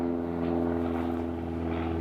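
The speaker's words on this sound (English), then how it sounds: "We're gonna have a plane in every video." A propeller airplane drones steadily overhead in Evergreen, Colorado, its low humming tone holding constant and fairly loud throughout, with no voices.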